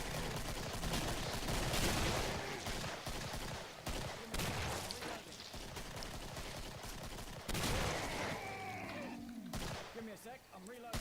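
Support-class weapons in the Killing Floor video game fire in dense, rapid volleys of gunshots that go on almost without a break, loud and busy, with a voice talking over the battle.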